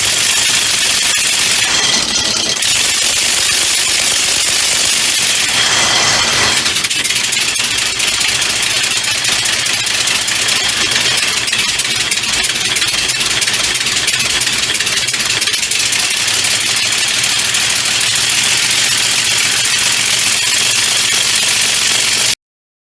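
Homemade compressed air motor running loudly and roughly, a harsh continuous clattering drone with brief louder bursts of hiss, close up for over twenty seconds with no talking.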